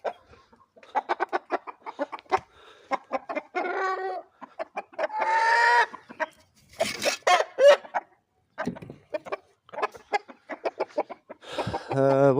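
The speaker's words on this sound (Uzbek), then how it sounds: "Bular katta jo'jalarimiz" A flock of chickens, large chicks and roosters, clucks and squawks close by in irregular bursts, with a short crow rising among them.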